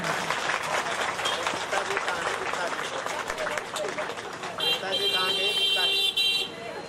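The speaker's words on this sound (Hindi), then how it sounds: "एक बार जोरदार ताली" Audience applause at a live Shrimad Bhagavat Mahapuran katha, a Hindu religious discourse near Shimla, with steady dense clapping throughout and a sustained tonal electronic sound joining near the end.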